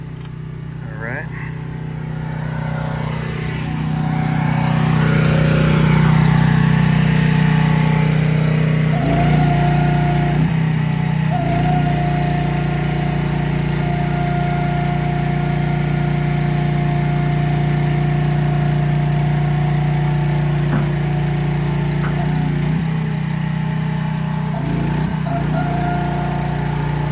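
The motor of a 24,000 lb GVWR hooklift trailer starts up and settles into a loud, steady engine drone that runs unbroken and close by.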